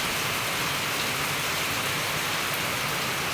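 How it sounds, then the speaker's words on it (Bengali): Heavy rain pours steadily outside a rural home, a dense, even hiss of downpour with no pauses and no one speaking. "বাইরে প্রচুর বৃষ্টি"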